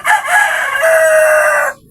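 A fighting rooster crows once, loud and close: a single drawn-out cock-a-doodle-doo lasting under two seconds and ending abruptly, with no other sounds around it.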